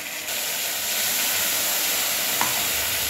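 Spice paste hitting hot oil for a Bengali mango-stuffed bata fish curry, giving a steady, close hiss and sizzle with a brief clink of stirring near the end, no voices.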